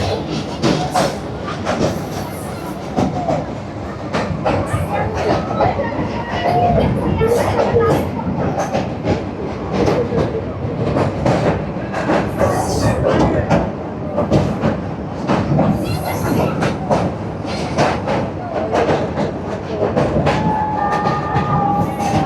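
A train rolls across the Hardinge Bridge, a railway bridge in Bangladesh carrying a double line, with a loud, steady rumble and rapid clickety-clack of wheels on the rails throughout.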